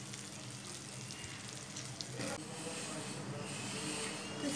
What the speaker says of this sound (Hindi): तो ये अभी 5 मिनट के लिए इस तरह फ्राई करेंगे एक साइड।